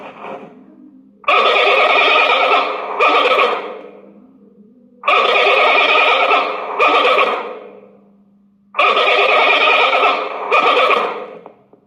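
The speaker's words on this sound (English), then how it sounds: "Let's see how panda makes" Loud, drawn-out bleating calls from a panda repeat three times, each a wavering, goat-like cry with a brief break, separated by low murmuring grunts.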